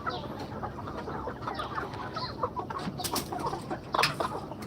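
Tiger chickens at a poultry farm cluck repeatedly at close range, with scattered squawks and calls over a busy background of flock noise and rustling, with no talk.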